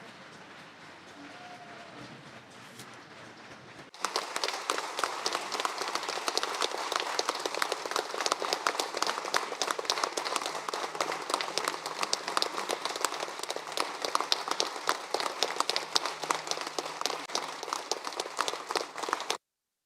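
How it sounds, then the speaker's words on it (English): A large audience bursts into sustained applause for a band at a concert, a dense, even roar of clapping that starts abruptly after a quieter opening and continues for about sixteen seconds. "A great round of applause for this wonderful team."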